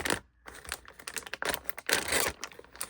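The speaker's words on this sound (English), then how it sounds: "I'm going to go ahead and cut this open further" Plastic packaging around a compressed bundle of yarn being cut open up close, with irregular crinkling, snipping and rustling bursts separated by brief pauses.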